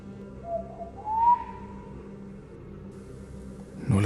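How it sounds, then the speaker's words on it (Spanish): A lone person whistles a short note, then a longer sliding note, clear against a quiet background, followed by a dull thump at the end. "silbaba. 2 silbidos cortos y uno largo"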